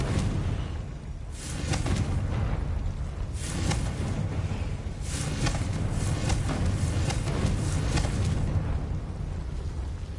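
Repeated explosive blasts from the Confringo spell in a Harry Potter video game, a run of loud roaring bursts and booms over a constant rumbling game background, spread across several seconds without talking.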